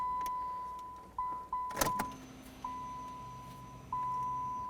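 A Chrysler 200 with a newly installed fuel pump being primed as the ignition key is switched on and off: a steady electronic chime repeats while short clicks and a brief mechanical burst mark the key turns, with a faint low pump hum in a quiet garage.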